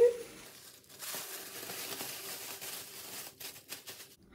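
A plastic shower cap crinkles as it is pulled over freshly dyed long hair, giving soft rustling and crackling close to the microphone, quiet overall with a few sharper crinkles toward the end.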